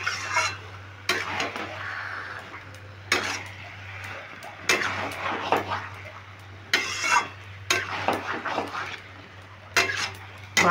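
A spatula stirs cabbage with katla fish head in a pan, scraping and clattering in repeated bursts over a steady sizzle and a low hum, close and fairly loud.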